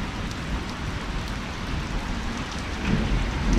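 Heavy tropical downpour with thunder at a fish-farming site, a dense steady roar of rain on surfaces with low rumbling thunder swelling near the end, no voices.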